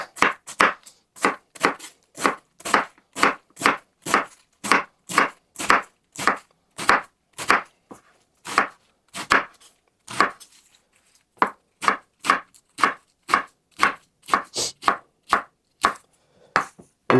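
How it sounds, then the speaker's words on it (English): A knife slices through a large head of cabbage on a cutting board: a long, steady run of crisp, evenly spaced cuts, close and clear, with one short pause midway and no voices. "I'm just going to slice right through it."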